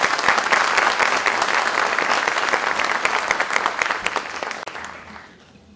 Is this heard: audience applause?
yes